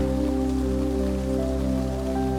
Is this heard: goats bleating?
no